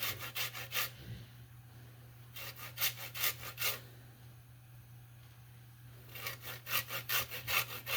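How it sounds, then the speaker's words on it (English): A lemon rubbed against a zester or grater while baking, rhythmic scraping strokes in three close, fairly quiet bursts separated by pauses over a steady low hum. "I think I've been using the wrong thing to zest my lemon this entire time."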